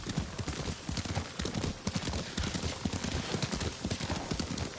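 Horse hooves clip-clop in a quick, steady riding gait in Ghost of Tsushima, continuous and fairly close, with faint whinny-like sounds mixed in.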